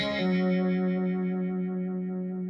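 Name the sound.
guitar effects pedal modulation slowing as symmetry knob is turned up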